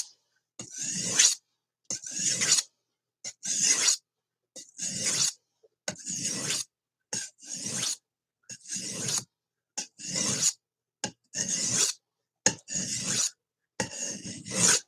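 A knife is drawn across a sharpening stone in rhythmic rasping strokes, about a dozen evenly spaced passes separated by short silences, close and clear with no talking.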